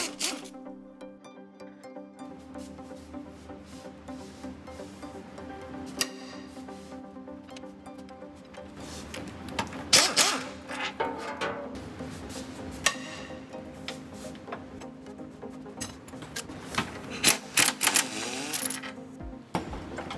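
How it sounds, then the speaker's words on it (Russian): Bolts holding the subframe to the body of a Mitsubishi Lancer EVO X are being unscrewed, faint ratcheting clicks and small metallic ticks over a low steady hum, growing busier toward the end. "откручиваем болты, которыми подрамник прикручен к кузову"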